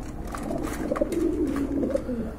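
Large pigeons coo in a low, continuous murmur close by, soft rolling calls repeating over a steady background hum with no talk.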